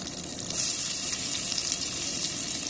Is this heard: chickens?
no